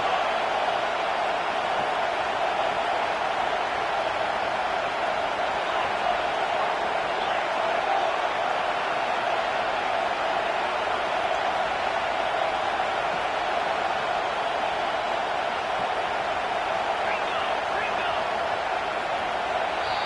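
Loud stadium crowd at a Texas vs Alabama college football game, a broad continuous roar of many voices sustained evenly throughout, with no break in the din.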